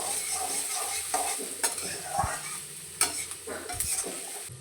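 Onions fry in a pan for a tomato gravy, a steady sizzle running throughout with occasional scraping knocks of a spoon stirring against the metal, close up and without talk.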